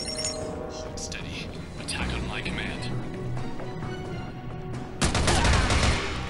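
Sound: gunfire in Frontline Commando: Rivals video game

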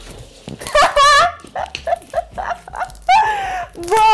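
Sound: dog barking and whimpering in a car

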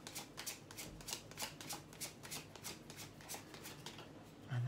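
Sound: shuffling a deck of tarot cards

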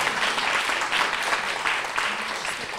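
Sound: audience applause at award ceremony

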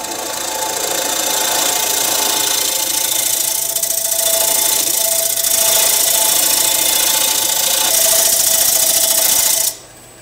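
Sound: negative rake scraper turning a wooden bowl on a lathe

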